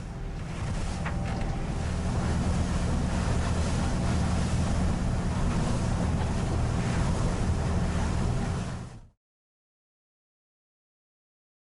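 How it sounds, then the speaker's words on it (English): A Targa 46 motorboat pounds through waves with a force 5 beam wind around the Channel Islands, salt spray lashing the windows and roof; loud, continuous rush of water, wind buffeting and engine rumble for about nine seconds, then abrupt silence. "Salt water spraying on the windows and roof."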